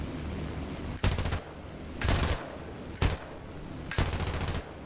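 20mm cannons and a heavy machine gun fire from a BV-138 flying boat in War Thunder, four rapid bursts of gunfire evenly spaced over steady engine drone.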